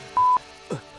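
A telephone gives a short, clear dialing tone, a single steady beep, followed by a faint brief murmur.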